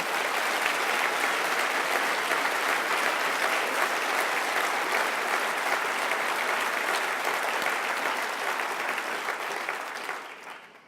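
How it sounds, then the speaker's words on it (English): A large audience at a 2018 national housing summit gives a dense, steady round of applause, loud and sustained for about ten seconds before fading out at the end. "I think he deserves a round of applause, actually, ladies and gentlemen"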